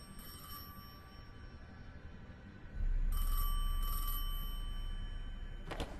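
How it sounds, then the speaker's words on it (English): A telephone bell rings in the video game Destiny 2, with short bursts of ringing repeated several times over a low rumbling drone that swells partway through. "I felt the ringing more than I heard it."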